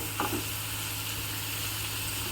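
Food left to fry in a pan on a low flame while cooking a traditional Malenadu Havyaka village-style dish gives off a steady, even sizzle and hiss throughout, with a faint scrape near the start.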